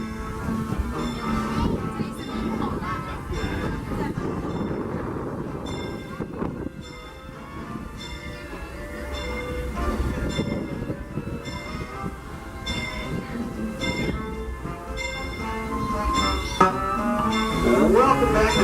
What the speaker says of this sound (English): Please wait for the train to make a full stop inside the station